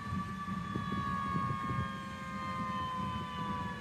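An ambulance siren wails faintly in traffic, steady and drawn-out, over a low rumble of road and engine noise, with no voices.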